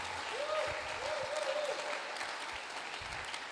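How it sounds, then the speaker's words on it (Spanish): A church congregation applauds during a Spanish-language sermon, the clapping faint and distant, with a few brief voiced tones rising above the soft spread of hands. "Y dale un aplauso al Señor, hermano"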